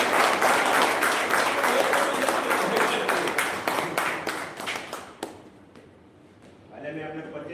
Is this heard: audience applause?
yes